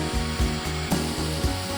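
A jigsaw blade saws through wooden parts for a soap cutter, a loud, close buzzing with regular rhythmic strokes pulsing several times a second without a break.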